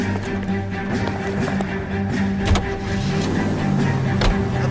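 A car in L.A. Noire pulls away, its engine humming steadily with a rising tone, joined by a few brief knocks and taps.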